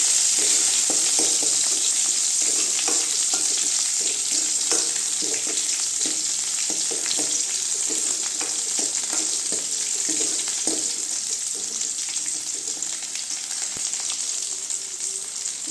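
Chopped onions sauté steadily in a hot pan for a spinach kadaiyal, a continuous loud sizzle with small crackles and occasional stirring scrapes, no voices.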